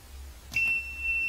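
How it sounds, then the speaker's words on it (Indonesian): A small electronic buzzer, wired to an Arduino Nano PLC input, sounds a sharp high continuous tone that starts abruptly after a faint click against a quiet low hum. "Maka untuk buzzer akan menyala ya."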